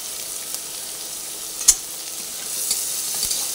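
Chopped onions fry in oil in a pan with a steady, close sizzle, broken by a sharp clink of a utensil and light stirring scrapes, and no talk.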